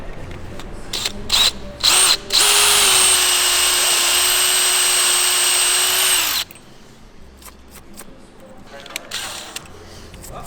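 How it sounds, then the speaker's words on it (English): A power drill bores through an engine part on a Nissan Skyline: a couple of short bursts, then a steady, loud, high whine for about four seconds that cuts off abruptly, with quiet voices and handling noise around it. "So that's drilled through."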